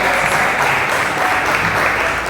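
Congregation applauding in a church, a steady dense wash of clapping filling the space without a break.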